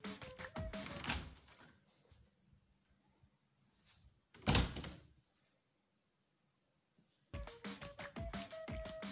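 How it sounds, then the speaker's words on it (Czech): Door closing indoors: a single loud thud near the middle, between stretches of clattering and rattling handling noise, with quiet gaps. "Zavři ty dveře."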